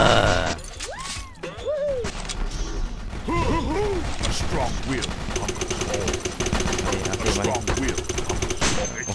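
Rapid machine-gun fire and bursts of shots in the video game Toy Wars ring out loudly and continuously, with mechanical clatter and a voice talking over the shooting.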